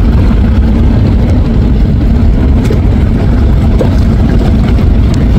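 Two river passenger launches race on the water, the Adventure 9 and a smaller sunken-deck launch overtaking it, their heavy engines giving a loud, constant low roar with water rushing close by.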